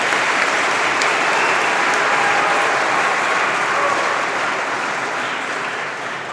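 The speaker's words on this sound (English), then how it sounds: "So if we can give them a round of applause." A graduation audience at a college prep school gives the musicians a round of applause. The dense crowd clapping holds steady and then gradually fades toward the end.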